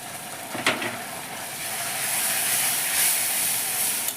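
A ground cumin and coriander spice paste hits a hot pan for a prawn curry, giving a sharp brief crackle followed by a steady, soft sizzling hiss.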